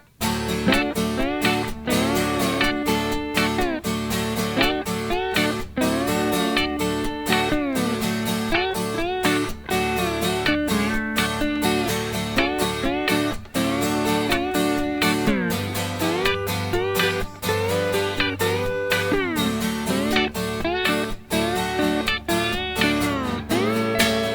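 A loud, continuous strummed guitar rhythm, chords struck steadily in a driving pattern with occasional changes, no voices.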